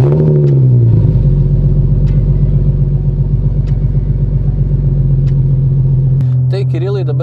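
Nissan 370Z sports car engine sending a deep, steady low rumble that swells slightly as the car pulls away, running continuously under people talking close by.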